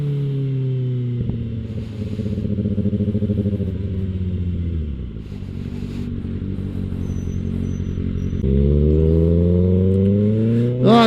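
A motorcycle carries its rider on a commute to work, with the engine droning steadily, dropping in pitch as it slows, then revving up again, loud and close with wind rumble.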